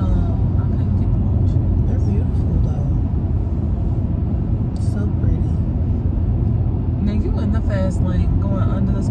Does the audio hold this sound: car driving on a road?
yes